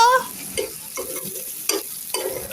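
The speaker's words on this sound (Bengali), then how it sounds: "রোস্ট ভাজার তেলে এখন" Onions going into the oil left from frying roast in a karahi to become crisp beresta: a steady sizzle broken by several scraping stirs of a spatula, close up, with no talking.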